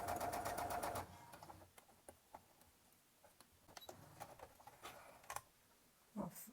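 A sewing machine stitches fabric overalls for an Easter bunny toy, with a short burst of fast, rattling stitching at the start, followed by faint scattered clicks and handling taps.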